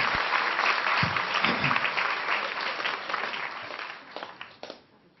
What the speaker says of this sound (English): this audience is going to give its applause just to you right now